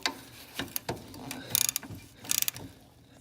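A hand ratchet tightens the 17 mm transfer case drain plug on a Honda 300 Fourtrax ATV, giving a few quick clicking strokes up close that build into two denser bursts of rapid clicks.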